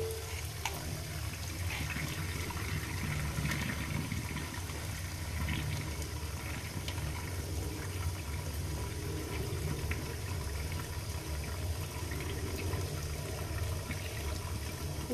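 Hot water is poured out of a cooking pot while anklets are being cleaned at home, making a continuous, moderately faint splashing and trickling stream that runs steadily throughout.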